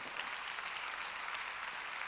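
Church congregation clapping at a Wednesday worship service, a steady dense wash of many hands applauding at moderate distance, fairly faint with no speech over it.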